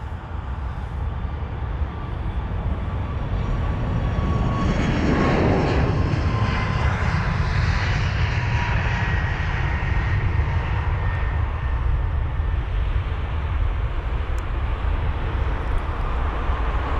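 A jet airliner departs London Heathrow, its engines building into a broad roaring swell that peaks as it passes close by, then a long sustained rumble fading slowly, with no talk over it.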